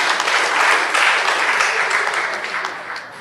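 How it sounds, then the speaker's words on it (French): Sustained applause fills a conference hall, a dense, steady wash of many hands clapping at close range that tapers slightly toward the end. "C'est bon qu'on l'applaudisse un peu aussi,"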